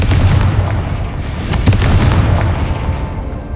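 A Confringo fire spell explodes in Hogwarts Legacy, a loud booming blast with rumbling bursts that stays heavy for several seconds before tapering slightly.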